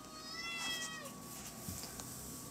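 A house cat meows indoors near a window, a couple of soft, rising cries over a steady background hum, fairly faint and without talk.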